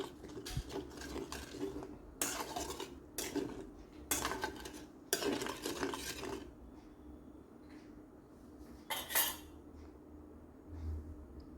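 Fish curry with tamarind water stirred in a pot, Kerala style, with bursts of spoon scraping and clinking against the metal in irregular clusters, fairly close, then quieter simmering gaps with no talk.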